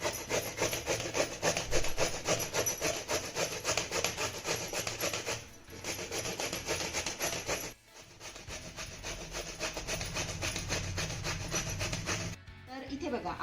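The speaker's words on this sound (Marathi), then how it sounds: "त्यासाठी ना इथे मी छोट्या किसणीचा वापर करते, म्हणजे दोडके छान असे बारीक किसले जातील" A ridge gourd is rubbed rapidly against a small hand grater, producing close, rhythmic rasping strokes in steady repeated bursts with a couple of brief pauses and no talking.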